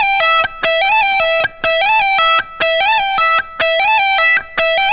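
Distorted electric guitar plays a repeating lick in a hard-rock style, with a quick slide up into a high note and a pull-off, phrased in short bursts with brief gaps between them.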